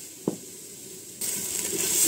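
Meat spices sauté in a clay pot, a soft sizzle with a brief clack near the start, then a louder, steady frying hiss for the rest.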